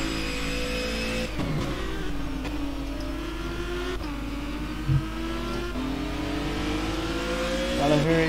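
Renault Megane race cars in a racing video game at Imola, engines droning and revving continuously with shifting pitch, a few brief bumps and a rising surge near the end.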